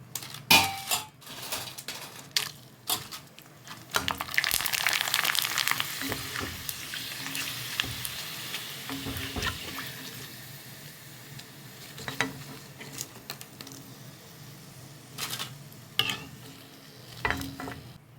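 Koozh vathal rice crisps fry in hot oil with a burst of sizzling and bubbling, among sharp clinks and scrapes of a metal utensil against the pan, quieter crackling trailing off between the taps.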